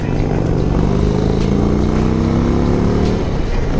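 An Indian motorcycle engine revs loudly up close, its throaty rumble climbing in pitch before dropping back, with wind noise over it.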